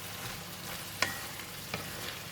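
Pork belly and long beans stir-fry in a Thai dish with a faint, steady sizzle, broken by one sharp clink of a utensil against the pan and a softer tap after it, quiet and brief.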